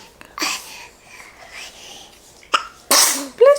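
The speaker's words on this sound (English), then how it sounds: "bless you" A single sharp sneeze bursts out loud and close in a quiet indoor room, followed by a breathy sniff, with soft vocal murmurs around it.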